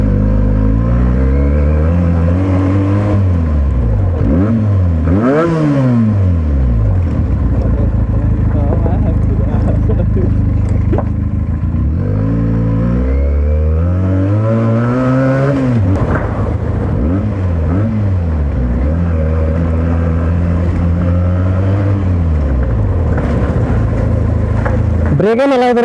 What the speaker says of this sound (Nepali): So this is Benelli 300